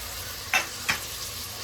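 Tomato and onion roasting in a pan, with a steady close sizzle of hot oil. Two brief scraping stirs of a spoon against the pan break through it.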